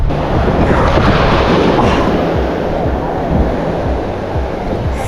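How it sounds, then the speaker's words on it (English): Ocean surf breaking at Lido Beach, a broad continuous wash of rumbling waves heard from nearby, steady and loud with wind buffeting the microphone throughout. "A little further back from where the waves are kind of crashing"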